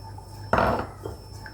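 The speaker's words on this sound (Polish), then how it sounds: "Mieszam dokładnie, intensywnie" Flour and curry powder are stirred into melted butter in a pot, making a brief burst of scraping and rubbing near the middle, then a few faint taps before the kitchen goes quiet again.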